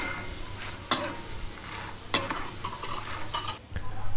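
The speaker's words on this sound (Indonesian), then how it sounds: "Goreng kacang tanah." Steady crackling sizzle of peanuts frying in hot oil, with two sharp clinks of a utensil against the pan partway through.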